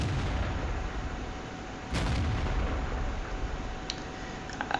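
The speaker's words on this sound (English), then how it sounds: "I do manage to put a shot through his turret" A tank cannon fires once in World of Tanks, a sharp loud blast over steady engine rumble, followed by faint metallic clicks.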